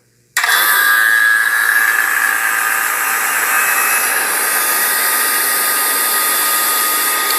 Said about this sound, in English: So we're going to turn our vacuum pump on now.